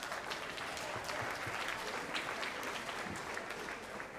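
A banquet crowd at the 2023 Colorado 4-H Awards applauds the horse bowlers, steady full-room clapping that holds at an even level throughout with no speech.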